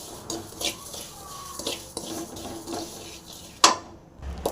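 Cumin seeds dry-roasting in a pan give off faint, sparse scraping and clicking as they are stirred, with a few soft metallic taps and one sharper knock of the spoon near the end.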